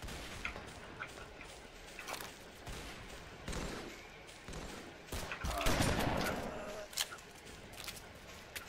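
Shotgun blasts in a video game, a run of sharp booms and rapid gunfire rising to a dense burst near the middle, with game sounds and faint talk in the background.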